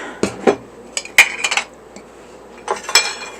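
A metal spoon clinks and scrapes against a container and mixing bowl while adding baking soda in a kitchen, a handful of sharp close taps and rattles with no talk.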